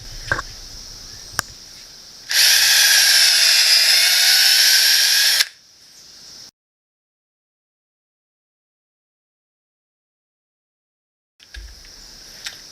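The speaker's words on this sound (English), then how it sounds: "I'm going to go ahead and drill the pilot holes with that" A power drill whirs loudly for about three seconds, drilling pilot holes in wood, spinning steadily, then winds down; quiet stretches and small clicks surround it.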